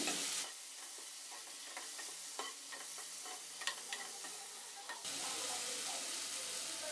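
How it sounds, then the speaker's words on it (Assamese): A ginger, garlic and green chili spice mixture sizzles in a pan while being stirred, with scattered scraping strokes over a steady frying hiss. Near the end the sizzle grows louder and fuller. No one speaks. "এতিয়া গোটেইখিনি ভালকৈ মিক্স কৰি লওঁ প্ৰথমে"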